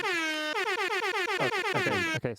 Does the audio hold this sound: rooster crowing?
no